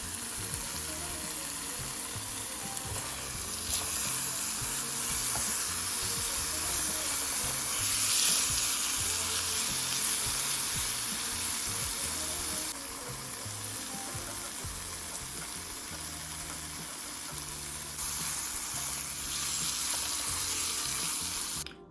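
Vegan BBQ pulled oyster mushrooms warming in a pan on the stove give a steady, moderately loud sizzle and crackle that runs unbroken throughout, with no voices over it.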